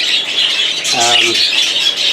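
A sky blue cock bird from 2019, moulting and feeding chicks in a breeding shed, gives one short, harsh squawk. A steady background of other birds' chatter and hiss continues throughout.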